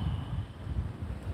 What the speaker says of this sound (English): Today's just really windy. It's very gusty and windy